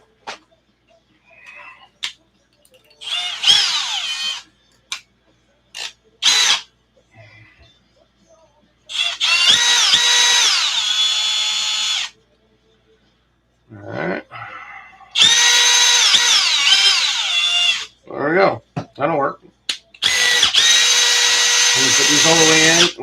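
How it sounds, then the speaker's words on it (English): Cordless power drill drives screws during assembly of an ARRMA RC car, with several loud whirring runs of a few seconds each, separated by pauses and small clicks. "in case this drill goes down, I brought mine from work"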